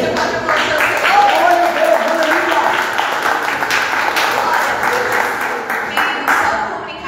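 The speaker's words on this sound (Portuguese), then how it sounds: "Você pode aplaudir o Senhor?" Church congregation applauding together at a worship service, a steady wash of clapping sustained for several seconds with voices mixed in underneath.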